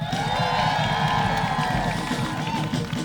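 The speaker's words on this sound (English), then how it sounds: "Give them a round of applause." Crowd at a Tacoma International Working Women's Day rally cheers and whoops for its speakers, with scattered clapping mixed into loud, excited outdoor voices.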